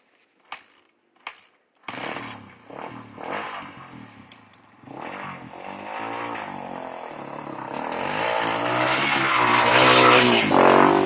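A dirt bike with the choke off gives a couple of sharp clunks before its engine catches, then revs in rising, buzzing surges that build louder as it heads up a hill climb.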